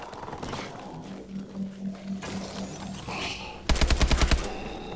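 Rapid automatic gunfire in the video game Advanced Warfare Exo Zombies comes as a tight burst of loud, evenly spaced shots near the end, after quieter game ambience and scattered mechanical effects.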